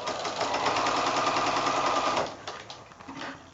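A sewing machine stitches quilt fabric strips in a fast, even mechanical chatter for about two seconds, then slows into a few uneven, softer stitches as it stops.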